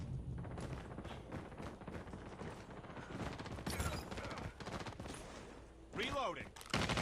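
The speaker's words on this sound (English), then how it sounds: "Changing mag." Gunfire in a video game sounds continuously, with mechanical clacks mixed in that fit a weapon magazine change and reload, over busy game noise with a sweeping effect near the end.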